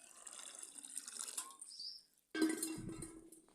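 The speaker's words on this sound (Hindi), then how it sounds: "अब जो है मैं ये बचता पानी इसमें डाल दूँ और बर्तन धो लूँ।" Leftover water is poured out into a vessel before washing dishes, a brief faint splash and trickle, a pause, then a louder short gush of water.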